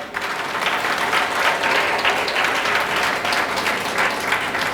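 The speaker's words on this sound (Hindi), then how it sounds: "एक बार ज़बरदस्त तालियां तो हो ही जाए।" A large audience bursts into sustained, dense applause at a Hindi-language book sales talk, the clapping steady and loud from start to finish with no voices above it.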